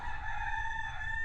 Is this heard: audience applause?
no